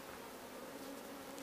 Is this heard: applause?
no